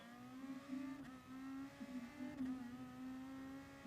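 Nissan Motul GR2 race car in a racing game on the Circuit de la Sarthe at Le Mans, its engine droning steadily at high revs with slight pitch shifts, continuous and alone.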